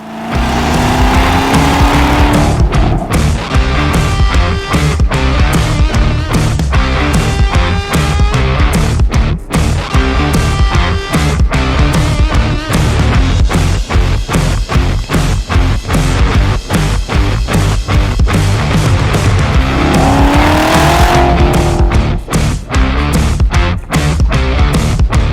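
A 2006 Ford GT sports car driving hard, its engine roaring loud and close through revving climbs and gear changes, with sharp rattling pulses and occasional tire noise, and no talking.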